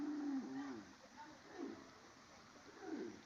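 A cow moos by the River Nyabohanse in a village setting, giving a few low, drawn-out calls that sit faint and somewhat distant over steady outdoor background noise.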